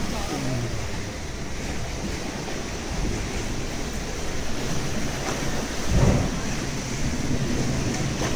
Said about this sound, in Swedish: Jävlar vilka vågor.